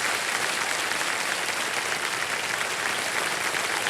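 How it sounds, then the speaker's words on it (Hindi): An audience on a TV quiz show breaks into loud, dense, continuous applause from a large crowd, sustained evenly throughout with no talk. "तालियां बज जाए"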